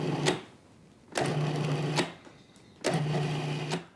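Food processor pulsing sugar, three short whirring bursts with pauses between them, each a loud motor buzz that stops abruptly, heard close with no talk.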